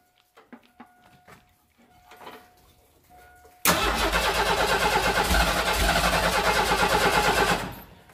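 A Ford 300 truck engine with a fuel system fault cranks in short weak bursts, then catches at about 3.6 s into a loud, steady run that holds for roughly four seconds before cutting out.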